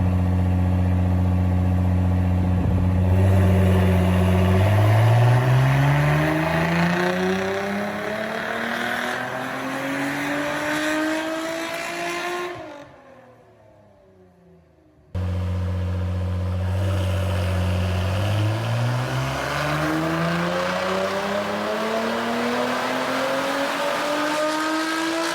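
A tuned 680-horsepower Nissan GTR with a new exhaust makes two hard acceleration pulls. Each is a loud, climbing engine roar that rises through the gears, and a brief drop in sound separates the two runs.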